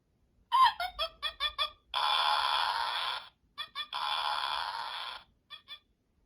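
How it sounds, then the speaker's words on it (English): A startled bird clucks and squawks close by: a run of short choppy calls, then two long harsh screeches separated by more quick clucks, with no talking. "Sounds like they scared the bird, too."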